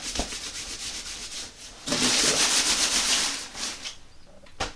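Coarse cotton canvas fabric rubbed together, a dry brushing scrape that swells louder midway, then trails off with a few short rustles.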